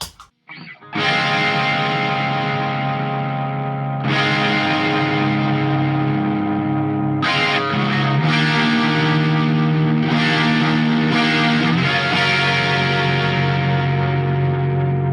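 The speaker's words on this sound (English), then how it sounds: "And with distortion on." A distorted electric guitar with a swirling chorus effect plays sustained chords, loud and continuous, struck anew every few seconds with no talking.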